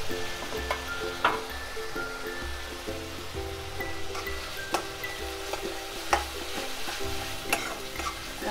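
Crushed masala frying in a pan for a wet prawn (karandi) dish sizzles steadily while a spoon stirs, scraping and knocking against the metal at irregular intervals, close and moderately quiet with no talk.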